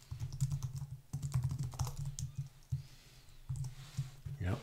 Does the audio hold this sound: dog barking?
no